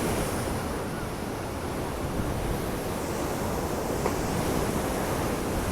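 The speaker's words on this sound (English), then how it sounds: "I thought you'd enjoy some sea spray and some big waves to finish your afternoon off today." Big sea waves crash and roar continuously at Blackpool, a dense, loud wash of surf with wind noise buffeting close by.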